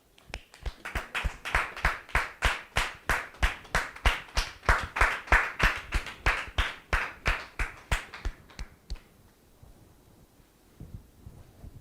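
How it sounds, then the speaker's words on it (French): A studio audience claps steadily in a loud, dense burst of applause to welcome a guest on a French-language religious talk show, the clapping swelling through the middle and then cutting off, leaving quiet room tone. "Sous vos applaudissements,"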